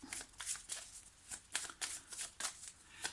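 Playing cards are shuffled and dealt for a tarot-style reading, giving a close, quiet series of rhythmic riffling bursts about every quarter second.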